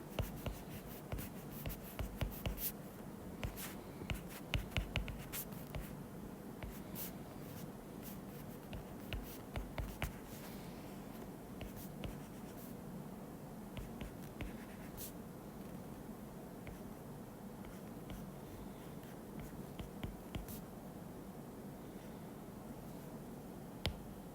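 Hand drawing of a molecule diagram showing an azo group, faint continuous pen scratching and tapping strokes with soft rustles, quiet and close with no talking.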